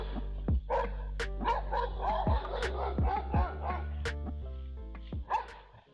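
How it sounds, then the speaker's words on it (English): A boxer dog barks in loud, sharp bursts, about a dozen irregular barks close by, with a few higher yips mixed in. "the owner decided to get a boxer dog"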